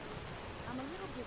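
Steady rain falls in Skyrim, a soft, even wash of drops at low level, with a voice talking over it.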